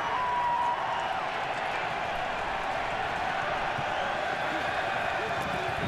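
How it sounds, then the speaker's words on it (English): Stadium crowd noise at a spring football game in Arlington, a steady, loud roar that stays constant throughout as voices carry over it. "Good, loud crowd here in Arlington"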